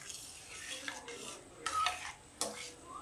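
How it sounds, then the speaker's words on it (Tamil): Vermicelli kesari toasting in ghee is stirred in a pan, a spoon scraping and clinking against the metal in irregular strokes, close and moderately quiet with a faint sizzle beneath. "நல்லா கிண்டிக்கிட்டே இருங்க."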